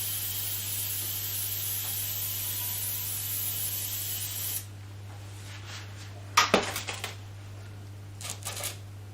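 Enamel is sprayed onto a copper bowl in a steady hiss for several seconds, then it stops and a few short clinks and scrapes of handling follow.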